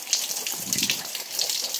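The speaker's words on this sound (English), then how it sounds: "I think we got ourselves a river there." Storm runoff rushes like a river after a Missouri storm with hail, a steady close hiss and gush of flowing water with bright splashy texture throughout, and a voice faintly under it.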